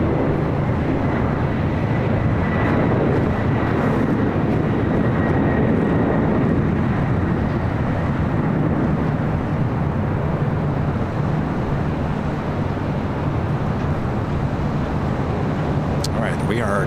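Fiji Airways Airbus A350 heavy jet arriving from Nadi at LAX's south side, a continuous broad engine roar and rumble that stays loud and steady throughout, with wind-like noise and no clear talk over it.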